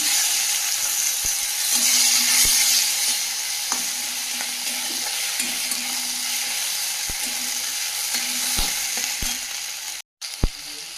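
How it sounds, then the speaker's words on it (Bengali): Ginger paste, chopped tomato and slit green chillies frying in oil, a continuous close sizzle broken by repeated scraping and knocking of a spoon stirring the pan. "টমেটোটা ভাজা ভাজা হয়ে গেছে"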